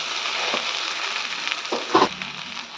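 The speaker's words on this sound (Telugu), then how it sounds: "ఇది కొద్దిసేపు ఆనియన్స్తో పాటు కొంచెం సేపు ఫ్రై కావాలి." Sliced okra frying with onions in a pan gives a soft, steady sizzle, with a few brief crackles and one louder clatter near the end as the vegetables are moved.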